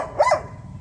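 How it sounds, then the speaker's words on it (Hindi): A single sharp dog bark, loud and close, aimed at garbage collectors passing by, standing alone over faint background noise. "इसीलिए इन कचरा उठाने वालों के ऊपर ये बहुत भौंकते हैं।"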